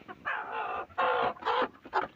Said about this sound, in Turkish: Horozumuzu da çıkartayım gel bakayım.